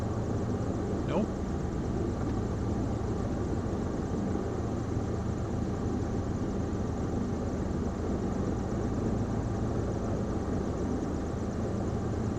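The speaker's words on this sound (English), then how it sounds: "Sounds like a helicopter." A Partenavia P68B aircraft engine in Microsoft Flight Simulator 2024 produces a steady, droning hum with a helicopter-like character, holding an even level throughout with no change in pitch.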